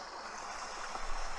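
Falling water from a cascade gives a soft, continuous rushing hiss, faint and steady through a brief moment of about one and a half seconds, with no voices over it.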